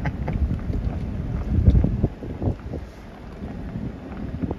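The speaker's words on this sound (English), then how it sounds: "Probably getting some wind." Wind gusts buffet the microphone outdoors at Kirtley Park in Cleburne, Texas, near a dam spillway. A low, rumbling roar swells loudest around the middle, then eases to a steadier, softer blow, with no talking.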